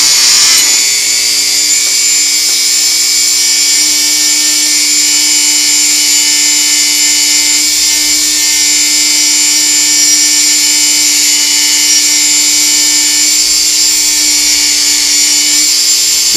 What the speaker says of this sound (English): So I'll take a Dremel tool. I have a little extension on it. I have a softer wire brush on there. Be a little noisy